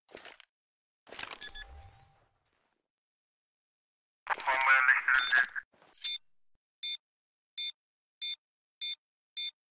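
Bomb beeps from a homemade Counter-Strike-style game, short electronic tones repeating at a quickening rate, clear and isolated after a few earlier bursts of other sound effects.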